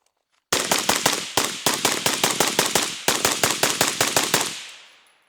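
A suppressed Velos 556 rifle fires a long run of rapid shots in quick, closely spaced bursts, each sharp report trailing a short outdoor echo, ending in a fading ring.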